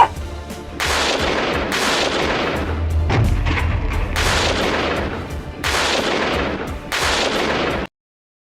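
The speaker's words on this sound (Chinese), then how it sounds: "前进，射击。" A tank's main gun fires during a military armored exercise in Xinjiang, several heavy booming blasts in sequence with rumbling decay between them, loud and close, ending abruptly in silence.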